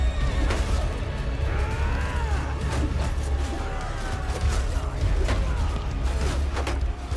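Several cavalry horses neigh and whinny repeatedly amid a dense, loud battle din of clattering and rumbling in the video game Mount & Blade II: Bannerlord, in a desert battle.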